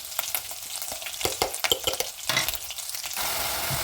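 Onion and tomato frying together in a pan, giving a loud continuous sizzle with frequent clattering spoon strokes as they are stirred, then a steady hiss near the end; no voices.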